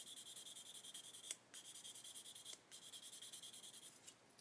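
Rapid back-and-forth rasping of a sanding stick on a 1/32 Hachette Lancaster B.III bomber model kit part, close and faint, in steady strokes broken by two short pauses.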